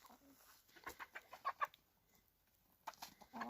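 Chickens cluck and squabble in short, sharp bursts, a flurry of agitated calls in the middle, then quieter before another brief outburst.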